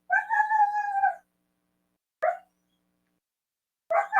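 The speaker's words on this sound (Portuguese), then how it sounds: "O cachorro fazendo barulho." A dog makes noise indoors: one long whining, howl-like cry, then two short yelps after pauses, close and clear against near silence.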